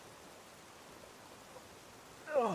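Rain falls steadily on an outdoor elevated-deck building site in the North Shuswap, a soft, even hiss throughout, with a voice cutting in briefly at the very end.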